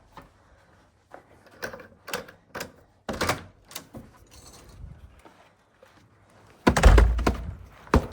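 Dusty household item banged against the back door while cleaning, giving a series of sharp knocks and thuds, scattered at first and then a louder burst of impacts near the end, close by with no talking.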